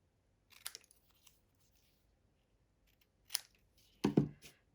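Scissors trim a piece of patterned paper for a card, giving a few sparse, crisp snips heard close up in a quiet room, with the last cut slightly longer and louder.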